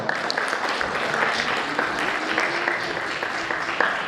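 An audience at a Third Way political convention in Płock applauds candidates for the county council, with continuous mid-level clapping from a crowd and a faint murmur of voices beneath.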